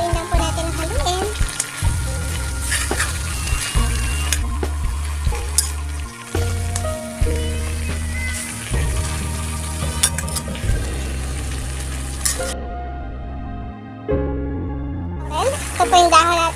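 Chicken adobo being stirred in a frying pan, with steady sizzling and frying underneath repeated scraping strokes of the spoon, close and fairly loud throughout, with a brief quieter gap near the end.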